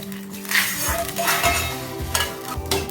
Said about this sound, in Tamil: இப்போ சூப்பில் ஊற்றிட்டு பொரிச்சதை போட்டுருங்க போட்டுட்டு இதை கொஞ்சம் கொஞ்சம் சூப் பொறிச்சு ஊற்றிக்கணும்